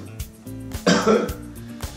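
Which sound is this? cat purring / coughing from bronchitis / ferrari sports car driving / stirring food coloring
coughing from bronchitis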